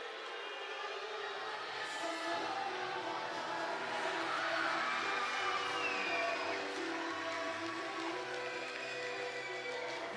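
Wrestling arena crowd roaring and cheering as a favorite wrestler makes his entrance, a dense, steady wall of crowd noise with a siren-like wail riding over it throughout.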